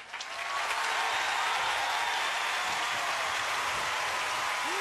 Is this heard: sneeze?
no